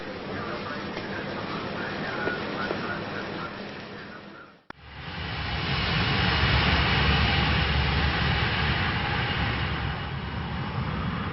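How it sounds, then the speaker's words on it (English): A BEA Trident jet airliner taking off, a broad steady jet roar that dips briefly, then swells louder and fuller with deep low-end rumble, sustained and fairly close. "As the BEA Trident took off that Sunday afternoon"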